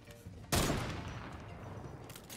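A submachine gun in a fast-firing video game fires a rapid burst that starts abruptly and is loud and close. The sustained crackle then decays into a lingering echo, and a faint second burst comes near the end.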